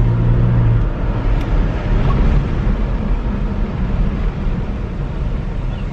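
A 2018 Toyota Tacoma towing a trailer on a dry lot during a trailer brake controller test run, heard as a steady loud rumble of engine and road noise with no talking over it.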